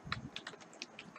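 Quiet keystrokes on a computer keyboard come in a quick, irregular run of soft clicks, with no voice over them.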